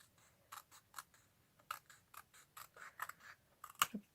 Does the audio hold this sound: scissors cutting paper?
yes